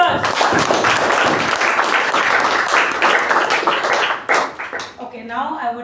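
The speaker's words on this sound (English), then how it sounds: "Let's give a huge round of applause to our Toastmaster." An audience at a Toastmasters meeting bursts into close, loud applause that holds steady and then breaks off near the end, with voices mixed in as it fades.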